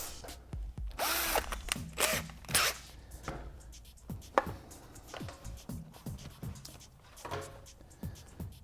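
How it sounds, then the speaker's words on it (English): Bursts of a power drill whirring and grinding through the fairing of a 2013+ Honda CBR600RR motorcycle, with short pauses and clunks between runs, close by. "we're drilling on the same axis as the bolt that's coming out of the motor"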